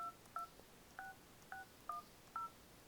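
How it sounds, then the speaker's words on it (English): Phone number dialed in the Google Voice app, seven evenly spaced keypad beeps, short clean tones, quiet and alone. "you can actually just dial the number"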